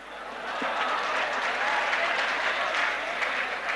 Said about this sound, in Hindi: अब ये ताली आप बजा रहे हो